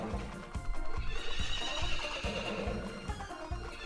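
A horse neighs at a horse race in the Story of Seasons farming video game, over a steady rhythm of clip-clopping hooves, loud and without talk.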